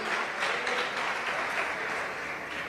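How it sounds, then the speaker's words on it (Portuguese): A church congregation applauds a pastor with steady, dense clapping that fills the whole stretch at an even level, with no talk over it. "Forte esse aplauso ao servo do Senhor em Cristo."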